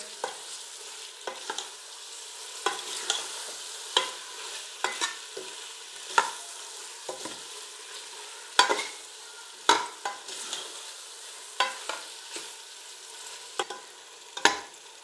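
Tomato masala for paalak gosht stirred and fried (bhuna) over a high flame, a steady soft sizzle broken by frequent scraping spoon strokes at an uneven rhythm, close by with no talk.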